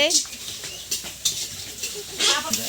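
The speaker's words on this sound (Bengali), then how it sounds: "দিদি পাপড় ভাজছে" Papad frying in hot oil at a busy home kitchen during a family event makes crackling, bubbling bursts at close range, mixed with utensil clinks and faint talk.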